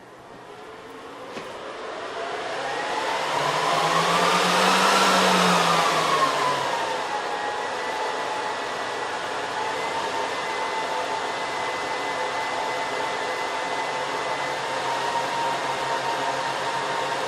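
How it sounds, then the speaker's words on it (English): Dell PowerEdge 2950 rack server fans whir up to a loud rising whoosh at power-on, peak, then settle into a steady high-pitched hum with a faint whine, continuous and close. "The server is turned off and we'll turn it on to get our first reference point."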